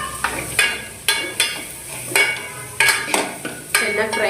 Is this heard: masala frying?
yes